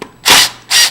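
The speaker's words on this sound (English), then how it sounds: "And I use a drill driver for this" A cordless drill driver backs out the screws of a PLS Grade 2 entry lever lock in two short, loud whirring bursts, close up with no talk.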